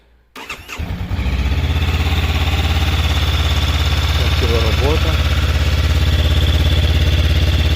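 A Honda NX 500 motorcycle engine cranks and catches after a brief starter whir, then settles into a loud, steady idle rumble; someone speaks briefly over it.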